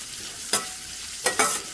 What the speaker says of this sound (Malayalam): ഇതും കൂടെ ചേർത്ത് നല്ലതുപോലെ വഴറ്റിയെടുക്കണം.